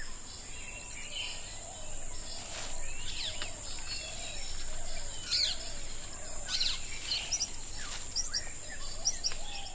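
Birds call in a Sri Lankan rainforest, repeated chirps and whistles scattered over a steady high insect drone, moderately distant and fairly faint, with no voices.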